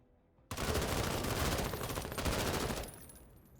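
Sustained automatic gunfire in the video game MENACE erupts abruptly and rattles on as a dense, loud volley of rapid shots for over two seconds, then cuts out, leaving a faint tail.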